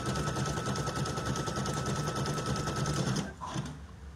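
A Brother PE 800 embroidery machine stitches an in-the-hoop ornament with a loud, fast, continuous mechanical rattle, close by, then slows and stops near the end.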